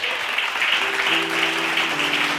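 Audience clapping during a Tamil Bible study gathering, a brief dense patter of hands heard over a faint hum, steady and moderately loud without any voices on top.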